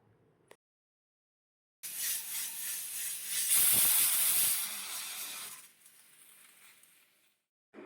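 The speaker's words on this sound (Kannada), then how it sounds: "ಈ ಟೈಮ್ನಲ್ಲಿ ಕುಕ್ಕರ್ನ ಮುಚ್ಚಳ ಮುಚ್ಚಿಟ್ಟು ಒಂದು 2ರಿಂದ 3 ವಿಷಲ್ ಹೊಡೆಸ್ಕೋಬೇಕು" A pressure cooker vents steam in one loud, sustained hissing burst lasting several seconds, preceded and followed by near silence.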